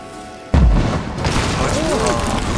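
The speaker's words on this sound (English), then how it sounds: "I heard guns. I heard guns." A heavy explosion in the video game Rise of the Tomb Raider bursts in suddenly and loudly, followed by a sustained rumbling roar of combat noise with faint voices beneath.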